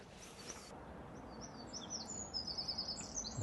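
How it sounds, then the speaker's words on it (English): Tiny ducklings peep in high, rapid little calls on a wide canal basin, faint against a soft outdoor background hiss, with a quick series of chirps toward the end and no talking. "And the first load of ducklings. Tiny little things."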